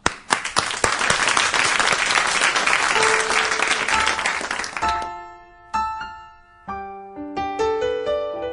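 Studio audience applauds and claps steadily for a singer after his live song in RFM's large radio studio, a dense burst lasting several seconds before fading as piano-like notes begin.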